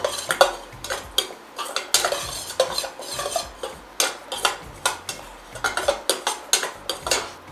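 Ginger fries brown in oil for a Kerala sadya ginger curry, a light crackling sizzle under rhythmic spoon scrapes and clinks against the pan, close and steady with no talking.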